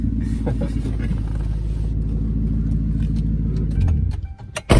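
A big naturally aspirated V8 in an American Lincoln limousine idles with a deep, throaty rumble, close by and steady, then revs up briefly near the end; no voices.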